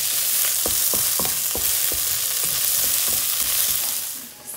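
Onions and garlic fry in a pan with steady broadband sizzling, while a utensil scrapes and stirs in regular strokes, close and loud throughout.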